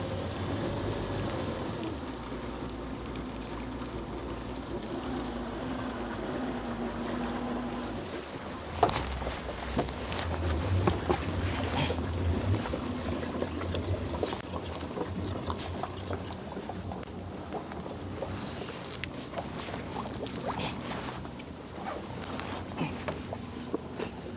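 A heavily loaded leisure motorboat heads out across the Yellow Sea on a rockfish fishing trip, its engine rumbling steadily beneath a constant rush of water and hull spray.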